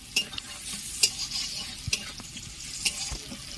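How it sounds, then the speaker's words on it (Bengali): Chopped onion and green chilli frying in a pan: a soft, continuous sizzle broken by several sharp scraping and stirring strokes from a spatula, close by with no voices. "পেঁয়াজটাকে লাল করে ভালো করে ভেজে নিতে হবে।"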